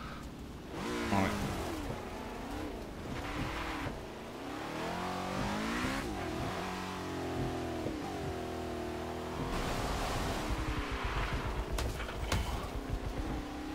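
A Lotus 67 racing car engine revs and surges on a wet Brands Hatch track, pitch climbing and dropping through gear changes, loud and close with a rough rumble.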